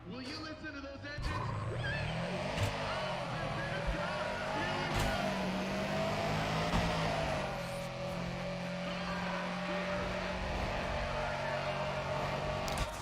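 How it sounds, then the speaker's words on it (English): Car engines revving in the racing game Need for Speed: ProStreet, a sustained moderately loud engine drone with shifting pitch that runs for the whole stretch while someone talks over it. "Will you listen to those engines?"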